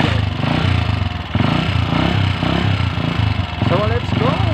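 A motorcycle engine runs close by with a steady, rough idle and a clattering mechanical patter, a brief dip partway through, while someone talks over it.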